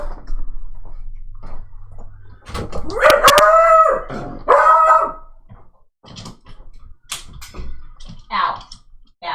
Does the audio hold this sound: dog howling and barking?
yes